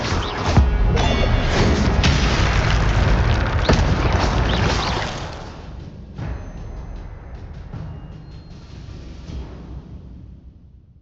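A fire spell cast in the video game Hogwarts Legacy: a loud, sustained roaring blast with crashing bursts for about five seconds, then a quieter crackling rumble that fades away.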